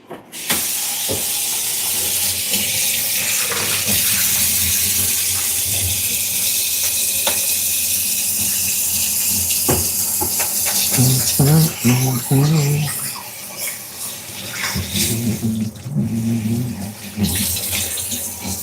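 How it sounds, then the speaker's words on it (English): Hands being washed under a running kitchen tap while cooking a chicken dinner, a steady close hiss of flowing water throughout, with brief splashing changes and faint background voice-like tones partway. "So let me just wash my hand."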